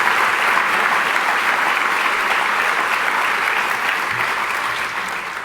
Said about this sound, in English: Let's have a big round of applause for this incredible act of philanthropy.